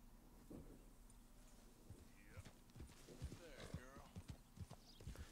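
Horse hooves clip-clopping in the Red Dead video game, a steady trotting beat of hoof hits under someone talking, with a faint whinny-like call.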